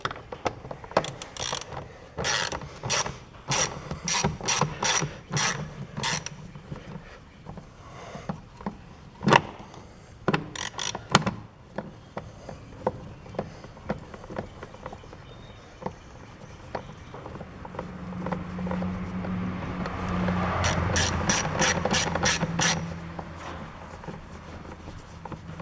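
A ratchet wrench works bolts loose on a 2014 Chevy Silverado during an air filter replacement, close clicking bursts in quick runs with pauses, plus a louder rattling stretch near the end.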